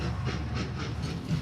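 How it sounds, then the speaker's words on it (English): A 96-year-old steam locomotive working through the Patagonian highlands near Esquel at dawn, a steady loud rumbling roar with rhythmic pulsing chuffs and hiss, heard alone with no voices. "The roar of the steam locomotive breaks the tranquility of Esquel at dawn."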